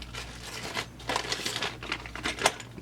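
A plastic bag crinkles and rustles continuously at close range, in irregular crackling bursts over a low steady hum in a workshop where a Husqvarna 346xp chainsaw is being taken apart.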